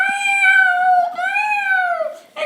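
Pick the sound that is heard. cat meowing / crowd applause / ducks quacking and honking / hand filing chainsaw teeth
cat meowing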